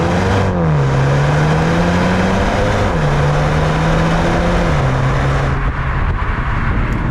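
A BMW 128ti engine drones steadily from inside the cabin, its pitch dropping with each upshift and climbing again under acceleration over continuous road noise.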